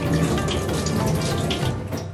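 Rice for sea bream rice is swished and rinsed in a bowl of water, making a steady close sloshing, trickling wash with no speech.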